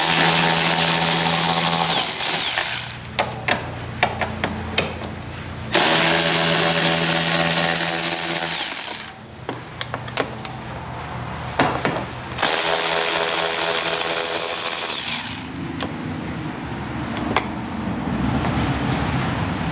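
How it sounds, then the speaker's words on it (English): A power tool with a T20 Torx bit drives out the light pod bolts on a Jeep JT during a Warn Elite front bumper install, running in three long, loud, steady whirring bursts with short pauses and rattling between them. "You're gonna need a T20 Torx bit to remove the three bolts that hold each one"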